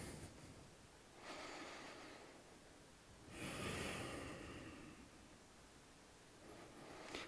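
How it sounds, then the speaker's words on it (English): Slow, deep breathing during a gentle yoga flow, soft airy inhales and exhales in long swells, close and quiet with no talk. "Breathing here, refocusing."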